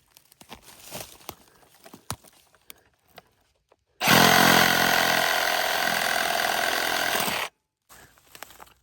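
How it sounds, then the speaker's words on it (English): A reciprocating saw cuts through a tree stump root in a loud, close burst of buzzing lasting about three and a half seconds, set between scattered knocks and clatter before and after. "that recip saw really did make quick work of that root"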